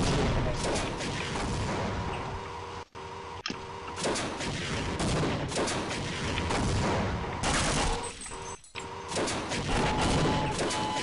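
Tank battle in the video game Half-Life, with dense, continuous gunfire and heavy explosions rumbling almost without pause, loud and close, broken by a few brief cuts.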